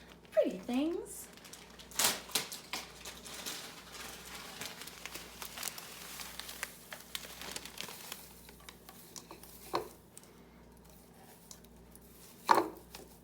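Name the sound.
cellophane filler rustling as it fills a bowl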